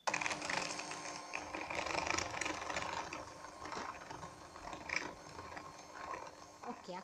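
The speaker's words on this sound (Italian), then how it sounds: "e monto con il mio sbattitore elettrico." An electric hand mixer whips egg, sugar and lemon zest in a bowl, giving a quiet, continuous mechanical whirring and rattling that runs steadily while someone talks.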